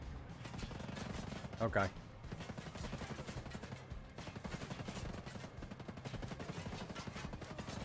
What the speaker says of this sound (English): All right, now he's shooting at me.